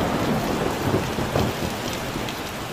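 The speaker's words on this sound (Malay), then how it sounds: "tapi hari ni hari hujan, saya tak dapat rekod banyak" Heavy rain pours beside an abandoned roadside house during a thunderstorm, a loud, close, steady downpour with low rolling thunder rumbling underneath and no voices.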